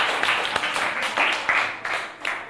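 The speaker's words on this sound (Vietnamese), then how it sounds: "cho bạn một tràng pháo tay nào." Classroom applause from a group of students, a quick run of scattered, uneven hand claps lasting a couple of seconds, close and fairly loud.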